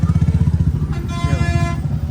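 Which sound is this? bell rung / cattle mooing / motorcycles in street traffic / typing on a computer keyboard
motorcycles in street traffic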